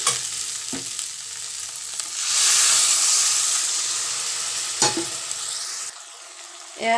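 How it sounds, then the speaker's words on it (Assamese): Water from boiled vegetables hits a hot frying pan of samosa filling, setting off a loud, steady sizzle and hiss that swells, then eases, with a couple of spoon scrapes against the pan. "এতিয়া চবজি বইল কৰা যিখিনি পানী আছে, মই ইয়াতে সেইখিনি দি দিম।"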